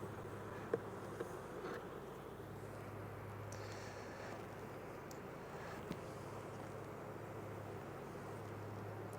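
Honey bees swarm and buzz steadily around an open hive full of dark comb and brood, a dense continuous drone close by with a few louder bees passing near, and no talking.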